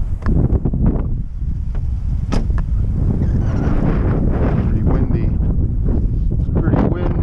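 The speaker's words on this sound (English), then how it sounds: "It's pretty windy." Strong, steady wind buffets the microphone outdoors, a loud, continuous roar with gusty bursts throughout, at a flying field during an FPV quadcopter's maiden flight.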